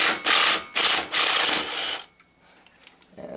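A Torx 30 ratchet backs out a fastener on a 2000 Voyager during condenser work, giving a few loud, close raspy ratcheting strokes in short bursts, then near silence.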